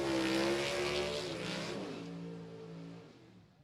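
A 1955 Chevy drag race car named Chick Magnet with Gene Fulton power, its engine roaring loud and close at first, then tone dropping and fading as the car pulls away down a dragstrip.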